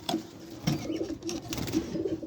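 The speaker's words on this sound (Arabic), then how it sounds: "عندي جوز فشر هخرجهم من العش أهو" A pair of green and red Fischer's lovebirds call from their nest, giving soft, short chirping notes in a loose, repeating pattern over a steady room background.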